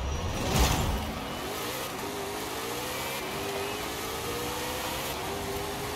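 A Ford Raptor R truck in Forza Horizon 5 accelerates with a steady, droning engine note that rises in pitch as it pulls through the gears, heard alone without talk.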